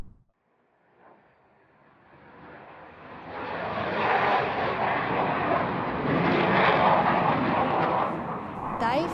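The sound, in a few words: military jet flying over a town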